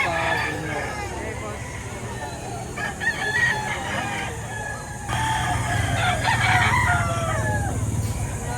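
Gamefowl roosters crowing at a busy cockfighting-bird market in Lipa, Batangas, several repeated crows near and farther off, with clucking and people talking throughout.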